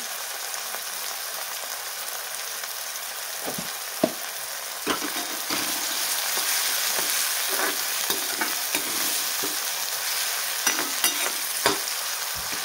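Egg bhurji with tomato and salt sautés in a pan with a loud, constant sizzle, punctuated by sharp spatula scrapes and taps against the pan at irregular intervals.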